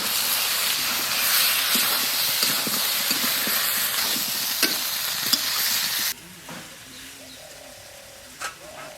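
Spice paste frying loudly in an outdoor pan for a small fish curry with young jackfruit, a dense steady hiss and sizzle that cuts off abruptly, leaving faint scraping and a few knocks.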